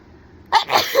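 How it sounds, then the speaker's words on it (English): A single close, sudden sneeze bursts out loudly after a moment of near-quiet, sharp and breathy. "was gonna say I have to sneeze. I'm gonna sneeze."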